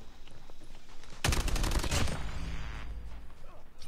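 Rapid laser-like gunfire from a buffed gun in the COD Mobile video game, a dense burst of shots starting about a second in and fading after a couple of seconds, over a steady game background.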